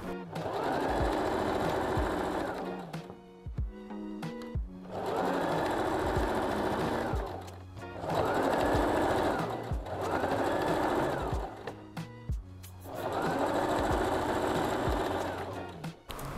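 A sewing machine stitches eyelet lace dress fabric with a lining, running in several steady whirring bursts of a few seconds each, separated by short pauses and clicks as the work is adjusted.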